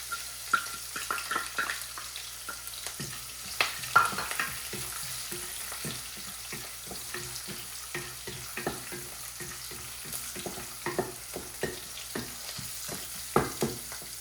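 Roasted peanuts sizzling softly in a pan for sabudana khichdi, with a spoon scraping and stirring in irregular clicks and taps over a low, steady background hum.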